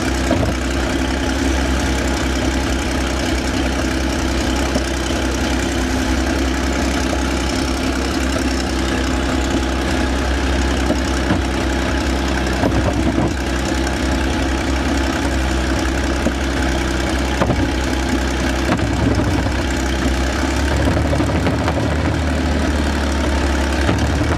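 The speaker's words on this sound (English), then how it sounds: "its 12 cylinders churning out a deep, growling surge of power" An old 12-cylinder tank engine runs steadily, a loud, deep growling rumble with constant mechanical vibration and faint knocking, unbroken for the whole stretch with no voices.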